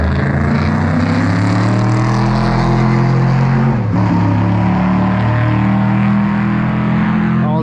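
Alpine and Porsche race cars, one a production Alpine, battle on the Montlhéry circuit during its centenary event, engines roaring loud and continuous with a sustained high-revving drone and a brief dip in pitch mid-pass.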